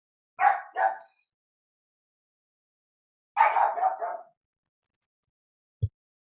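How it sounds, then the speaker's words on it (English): A dog barks indoors in two short bursts: a quick double bark, then a pause and a longer run of barks. A single soft thump follows, and no one speaks. "Sorry about the dog."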